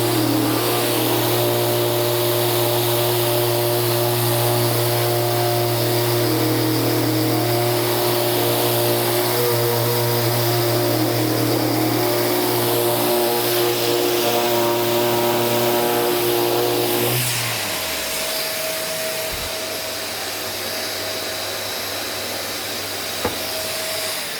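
A Mirka sander connected to a dust extractor runs with a loud, steady whirring drone and hum in a woodworking shop while a bedside cabinet is sanded, then winds down sharply, leaving a quieter background hiss.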